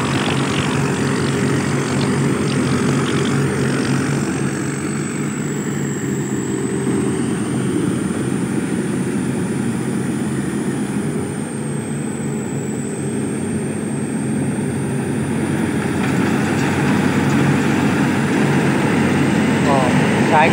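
A small Intawan-workshop S/60 combine harvester with a six-cylinder turbo engine and a stainless steel body runs at a steady, loud, close drone that holds unbroken throughout.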